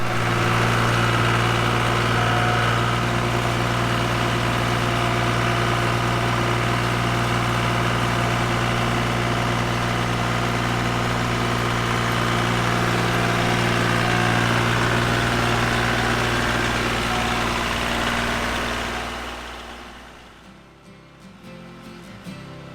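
A tractor engine idles with a steady, loud, low rumble and vibration for most of the stretch, then quickly fades away near the end.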